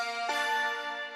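A dulcimer-like synth note passes through a granular delay effect, a sustained bright tone that swells with a grainy smear partway through, close and alone.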